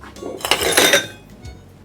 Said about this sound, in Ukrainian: Беремо охолоджений змішуваний стакан, додаємо лід